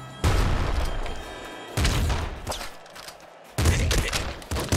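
Gunfire in Nuclear Throne arrives in loud, dense bursts separated by short gaps, each burst a rapid crackling volley.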